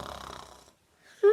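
A storyteller imitates a sleeping elf's snore with her voice: one short, loud nasal snort at the end, after a brief spoken phrase and a moment of silence.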